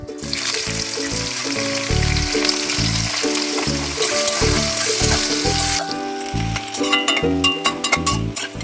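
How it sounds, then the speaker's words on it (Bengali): Chopped onions sizzle and fry in hot oil along with reddened whole spices for a thin mutton and potato curry, a loud steady crackle throughout, with stirring clatter and clinks toward the end. "এবার আমি এর মধ্যে কুচানো পেঁয়াজগুলো দিয়ে দিলাম"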